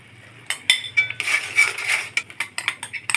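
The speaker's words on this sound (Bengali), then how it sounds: "দিতে থাকবে এবং আস্তে আস্তে নাড়তে থাকবো।" A spoon stirs besan flour into sugar syrup in a pan for motichoor laddu, making a quick series of close metallic scrapes and clinks in an uneven rhythm after a brief quiet start.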